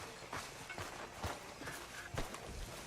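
A horse walks slowly in Red Dead Redemption 2, its hooves giving soft, spaced clops over a quiet backdrop, faint and without talk.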